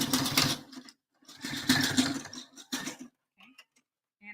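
Sewing machine stitching to tack the hook piece of a handmade bra, heard as short bursts of rapid mechanical whirring with brief pauses between runs, close up.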